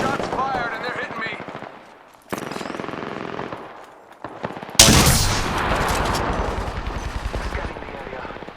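Gunfire from the video game Apex Legends comes in rapid automatic bursts, loud and close, with a louder burst of heavy firing near the end, mixed with other game sounds.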